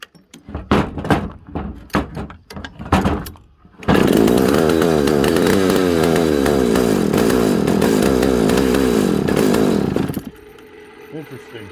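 An old barn-stored Pioneer chainsaw rattles through several pull-starts, then its two-stroke engine catches and runs loud and close for about six seconds before cutting out.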